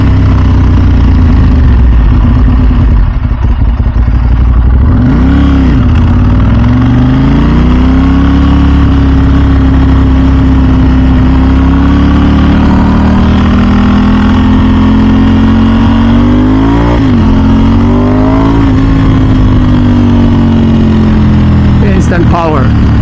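A Ducati V4 SP2 motorcycle engine runs loud and close, a steady idle rumble with a couple of sharp throttle blips and pitch rises, and a voice talking over it.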